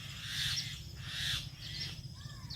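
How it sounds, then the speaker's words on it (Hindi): Several birds call loudly outdoors in a quiet setting, repeated harsh chirping bursts rising and falling over a low background hum, with no talking. "कहीं पे चिड़ियाँ काफ़ी ज़ोरों ज़ोरों से बोल रही हैं"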